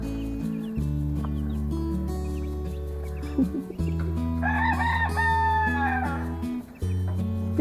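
A young chick attempts a crow, a rising then falling squeaky call in the middle, heard close over a loud steady background hum from music or machinery.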